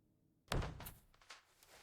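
A single loud, close thud strikes a heavy wooden front door, followed by a few fainter knocking taps.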